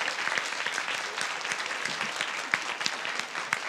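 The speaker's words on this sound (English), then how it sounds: "we need to also give them a round of applause for doing a wonderful job" A conference audience at APrIGF and TWIGF 2024 in Taipei gives the interpreters a sustained round of applause, a dense, steady patter of many hands lasting several seconds.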